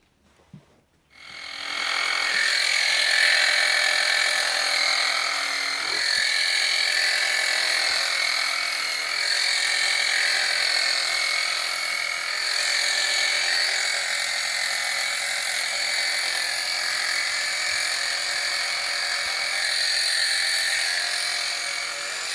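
A steady, high-pitched electric buzzing hum runs continuously after a brief click, droning evenly with slight shifts in tone and no voices, from electric horse clippers running.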